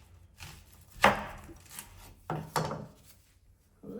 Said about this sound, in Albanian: Qep i ndajmë kështu në këtë mënyrë